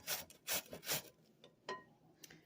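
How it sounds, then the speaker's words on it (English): Zucchini rubbed against a metal kitchen grater, a few quick rasping strokes close up with short pauses between them, each stroke loud then fading. "I finished grating all the vegetables"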